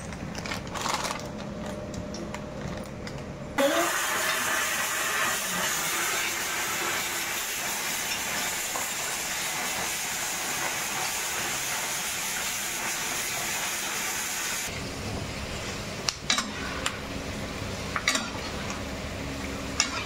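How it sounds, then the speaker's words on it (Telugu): Puris frying in hot oil give off a loud, steady sizzling hiss that runs for about ten seconds, with quieter stretches and a few sharp clicks before and after. "ఈ పూరీల్ని ఇలా నూనెలో వేయించుకోవాలండి."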